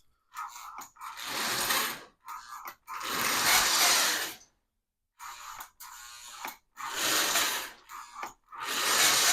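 Lionel toy train running on its track after fresh lubrication, close whirring gear and motor noise coming in repeated bursts separated by brief pauses.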